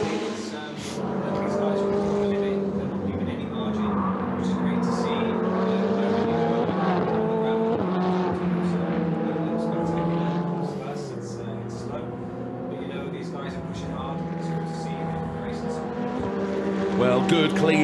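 Ferrari Challenge race cars lapping Mugello circuit in Italy, a sustained loud engine whine that rises and falls in pitch as cars pass, heard continuously at close range.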